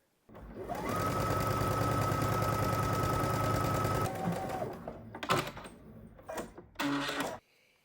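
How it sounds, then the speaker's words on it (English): A serger sewing a quarter-inch seam allowance on a cardigan runs in one fast continuous whirring stretch, then stops, followed by fabric handling and short clicks and thumps nearby. "Okay, I went ahead and serged my seam allowance."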